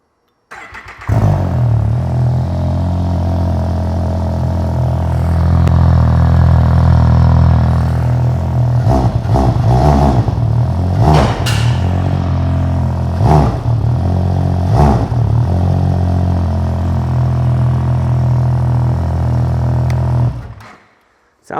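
A 2020 Ski-Doo Renegade 900 Ace snowmobile fitted with an MBRP trail exhaust starts and idles with a deep, steady burble, blipped by several sharp throttle revs before shutting off.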